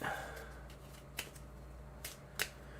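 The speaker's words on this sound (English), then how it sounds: "But I shuffle everything back in, right?" Game cards get shuffled together in brief, crisp riffling bursts, with three or four quick rustling flicks spaced over a few seconds against a quiet room background.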